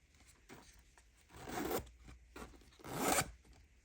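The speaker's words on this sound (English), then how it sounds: "We have a silver pull, nice actual like chunky zipper pull here." A chunky metal zipper with a silver pull on a fabric bag or pouch is zipped in two louder rasping strokes, with softer scratchy tugs before them. The sound is close and quiet, and no one speaks.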